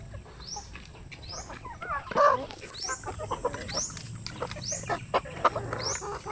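Chickens cluck repeatedly on a farm, a mix of short clucks and rising calls close by, with one louder squawk midway and a soft background hum.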